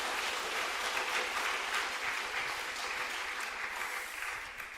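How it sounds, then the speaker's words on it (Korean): Church congregation giving a round of applause during a Korean worship service, a steady, moderately quiet patter of many hands clapping for a few seconds. "우리 서로에게 큰 격려와 축복의 박수 한번 보내주시겠습니까"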